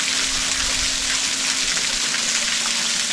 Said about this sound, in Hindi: तो पीछे दिख रहा है ना झरना, मैं यहाँ पर नहाने वाला हूँ।